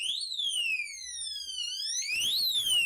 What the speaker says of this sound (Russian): когда у нас отключается сеть в доме, вот такой неприятный сигнал начинается